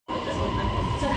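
Steady rumble of a Bangkok metro train in motion, a continuous low roar with a faint hum, close and loud throughout.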